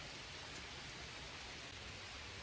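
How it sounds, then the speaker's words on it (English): Steady rain falls at a lakeside, a dense, even hiss of drops without pause, faint and constant with no voices. "I'm here at the lake in the rain"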